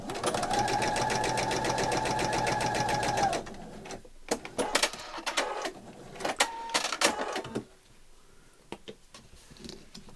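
A sewing machine stitches a small fabric coin purse in a steady, fast, close mechanical run for about three seconds. After it stops, several irregular clicks, knocks and handling noises follow in a quieter room.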